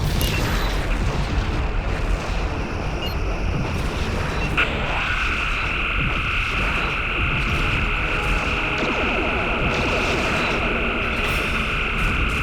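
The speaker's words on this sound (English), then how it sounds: "Klingon vessel destroyed." Loud spaceship explosion as a Klingon vessel is destroyed in the Star Trek: Legacy video game, a heavy rumbling boom that flares sharply midway and then rolls on with a sustained roaring, ringing tail.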